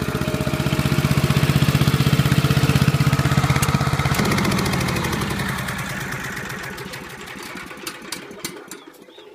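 A Lincoln car engine idles with a steady, close mechanical drone and rhythmic pulsing that shifts pitch partway through, then gradually fades and thins into sparse ticking toward the end.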